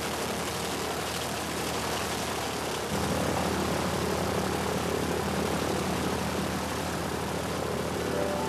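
An early propeller mail plane drones steadily with a loud, continuous engine roar that grows slightly stronger partway through.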